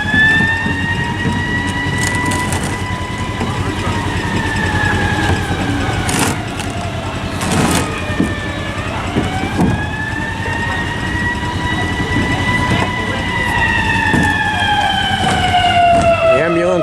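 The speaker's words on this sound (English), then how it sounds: "Ambulance going to help somebody." A wailing ambulance siren rises and falls steadily over traffic rumble, fairly close and loud, near a street race course under construction in Rock Island, with a few indistinct voices in the background.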